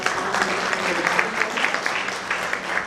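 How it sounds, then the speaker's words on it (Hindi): Steady applause from an audience at a Hindi literary award ceremony, clapping loud and continuous throughout with no pause. "एक बार जोरदार तालियों के साथ"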